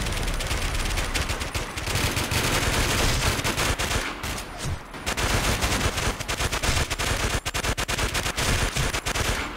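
Rapid automatic gunfire from the video game Warmode, loud and nearly continuous, with dense bursts rattling through the whole stretch and only a brief lull in the middle.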